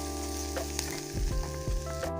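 Onions and spices sizzle in a pan over a campfire-style outdoor stove in a forest, with a spoon scraping and stirring in low knocks over a steady hiss.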